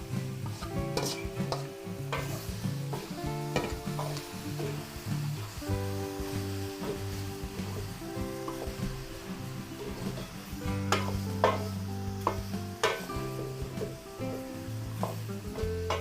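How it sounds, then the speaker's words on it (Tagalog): Chopped beef offal is sautéed in a large pan for a big batch of Filipino cooking, a loud continuous sizzle and frying crackle layered with scraping stirs and occasional metallic clanks of a utensil. "Igisa po natin yung ating ginayat na lamang loob"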